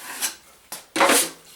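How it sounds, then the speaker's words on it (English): A drywall knife feathers joint compound across a new archway, giving three short scraping strokes; the last is the longest and loudest, heard close up with no talking. "I'm going to feather my trowel, feather my knife"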